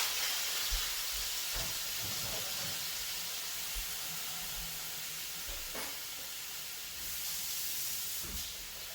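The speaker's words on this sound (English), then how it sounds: "I'm going to take my chopped spinach, throw it into the wok as well" Chopped spinach dropped into a hot wok, giving a steady, fairly loud hiss throughout, broken by a few soft knocks and stirring taps.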